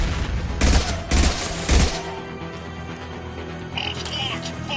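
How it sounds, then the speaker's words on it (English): Three heavy impact shots boom out in quick succession in Mass Effect 2, each a loud broadband blast, followed by lingering battle rumble and faint chirping effects. "Firing an impact shot."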